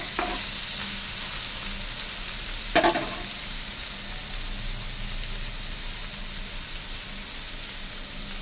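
Ivy gourd (dondakaya) pieces sizzle steadily in a hot oiled pan, a continuous frying hiss with a couple of brief stirring scrapes, close and moderately loud.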